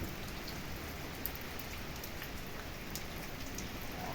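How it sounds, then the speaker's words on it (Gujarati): Heavy rain pouring steadily, a dense continuous hiss of drops drumming on surfaces, close and unbroken. "વરસાદ થઈ ગયો જોરદાર"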